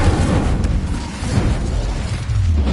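Incendio fire spell blast in Hogwarts Legacy, a dense roaring burst of explosive rumble and crackle that stays loud and sustained throughout, thick with low-end booms.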